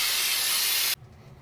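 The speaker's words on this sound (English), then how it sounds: "I'm just gonna use a carbon choke cleaner and just spray these down" Carburetor and choke cleaner blasts from an aerosol can onto motorcycle rear brake parts in one loud, steady hiss lasting about a second, then cuts off abruptly, leaving quiet room noise.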